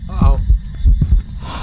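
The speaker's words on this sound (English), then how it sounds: "Why is my heart beating?" Low, throbbing heartbeat thumps from the horror video game Phasmophobia pulse steadily under a humming background, loud and close.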